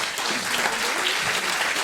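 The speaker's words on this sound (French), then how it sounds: "Donc, oui, on applaudit Charlotte." Steady applause from a small group at a business meeting, dense even clapping that fills the whole short stretch without pauses, close and moderately loud.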